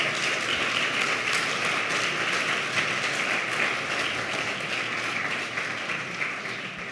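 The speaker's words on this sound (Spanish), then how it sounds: "Reciban el aplauso de la gente que está aquí reunida en las instalaciones" Applause from an audience gathered at a church meeting fills the space, a dense, steady wash of clapping that carries on alone and tapers slightly near the end.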